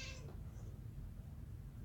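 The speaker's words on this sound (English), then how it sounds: "the cat has been going at it with the dog. They won't stop fighting." A cat meows and caterwauls while fighting with a dog, one loud yowl at the start and then low rumbling growls that continue steadily.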